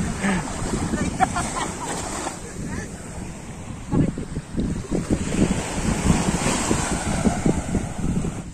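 Ocean waves break and wash on a beach at Sta. Cruz Island, Zamboanga City, rolling surges under gusty wind buffeting the microphone, moderately loud and continuous.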